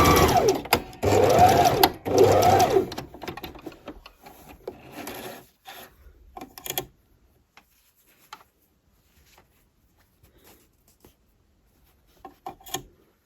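A sewing machine stitches a fabric seam on a scrunchie, running in a loud fast whirring burst for several seconds, then slowing to a few short stutters before near silence with light handling clicks.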